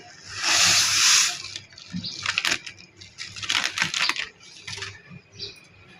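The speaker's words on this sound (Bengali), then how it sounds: "এবার এতে আমি ফালুদা মিক্সটি ঢেলে দেব" Falooda mix poured into boiling milk in a pot gives a loud rushing splash and sputter at first, followed by lighter liquid splashing and clinking, with no talk.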